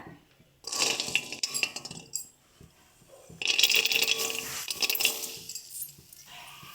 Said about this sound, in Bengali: শুকনো খোলায় ভাজবো তো দিয়ে দিচ্ছি আমরা